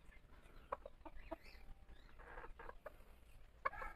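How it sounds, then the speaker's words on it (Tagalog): A silver lace Polish chicken with a long crest clucks softly in a backyard, making several short, faint clucks and chirps scattered over quiet ambient noise. "So isa po siyang Polish chicken mga kabakyard."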